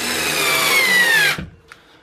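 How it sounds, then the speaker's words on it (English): A power drill drives a screw into plasterboard during a drywall doorknob-hole repair, a loud, close whirring burst lasting over a second before cutting off abruptly, followed by faint handling noise. "all we're doing is just screwing in below the surface of the actual plasterboard"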